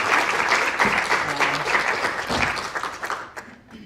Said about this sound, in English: if everyone give a round of applause and welcome Alistair to Galway